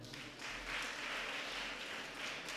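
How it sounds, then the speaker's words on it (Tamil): Steady applause from students in a music department gathering, a continuous even wash of clapping hands lasting a few seconds with no talk over it. "மாணவர்கள் ஒரு கைத்தட்டல் கொடுங்க."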